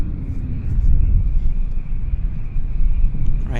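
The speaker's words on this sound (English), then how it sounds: "We've got a United taxiing out as well." A United Airlines jet taxis at Vancouver Airport, a steady, loud, low engine rumble with a faint whine above it that holds for the whole stretch.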